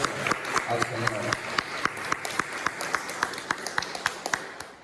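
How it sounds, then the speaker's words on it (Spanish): A church congregation claps joyfully during a sermon, sparse rhythmic hand claps in a steady beat over a low hum of voices, moderately close. "¿Quién le puede dar un aplauso de alegría al Señor?"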